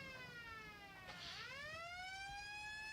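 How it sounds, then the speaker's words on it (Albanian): Emergency vehicle siren wailing in a drama scene, a sliding tone that dips and then sweeps upward, faint and distant but clearly heard above a low background hum. "Apo mund me ditë pe i ka po vinë këto sirenat."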